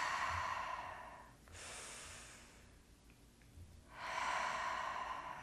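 Slow breathing exercise with paced inhales and exhales in a quiet room: a long soft breath in, a pause, then another drawn-out breath, each rushing steadily and close, with no talking.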